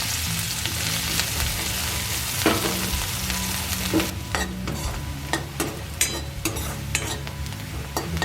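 Chopped ginger, onion and garlic fry in hot oil in a well-heated wok, giving a steady, close sizzle with occasional stirring scrapes and clinks, and no talking.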